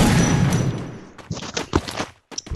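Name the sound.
double barrel shotgun fire in a video game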